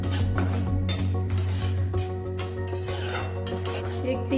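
Semolina (rava) dry-roasting over medium heat in a pan for upma, with a steady scraping stir of a spoon against the metal and light clinks throughout, close and continuous with a low hum underneath.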